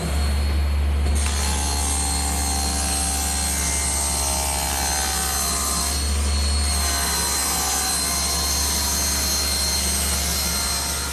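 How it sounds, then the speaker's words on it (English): A power saw rips a long, steady cut through a decking board to make thin 1 inch wide splines, its loud motor whine holding continuously with a short dip partway through. "I'll rip those out of a piece of decking, 1 inch wide and 1/4 inch thick"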